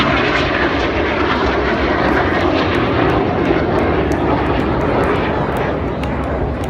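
RAF Red Arrows jets in a formation aerobatic display near Blackpool Tower, a loud, steady roar of jet engines filling the air and holding at a constant, close, powerful level throughout.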